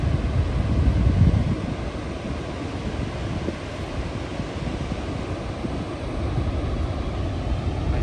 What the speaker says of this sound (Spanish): De ahí viene el río y aquí hacia la cascada.